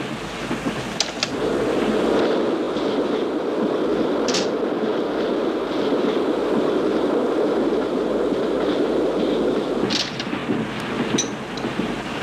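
A passenger train rumbles steadily along its rails in a steady, close-up interior drone lasting several seconds. Occasional sharp clanks and clatters break through, and no one speaks.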